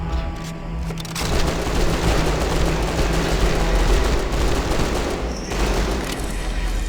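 Loud, sustained machine gun fire tears through a sewer level in Hunter: The Reckoning, a dense rattling barrage with booming impacts that fills the whole stretch.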